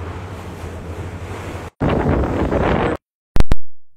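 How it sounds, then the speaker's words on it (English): Ocean waves and strong wind around a classic harbor tour boat in New York City: heavy wind buffeting and splashing surf roar continuously, break off abruptly, then return in short loud bursts. "The waves are increasing."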